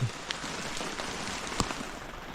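Sudden rain patters steadily on chili plants in a garden with a soft hiss, punctuated by a few sharper drips and taps.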